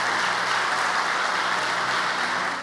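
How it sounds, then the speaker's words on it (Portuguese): Congregation applause in a church service, a steady dense wash of clapping held loud and even throughout, with no talking over it. "Você pode dar um aplauso"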